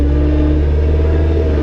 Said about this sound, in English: See, it don't really want to go up this hill, even in the first range.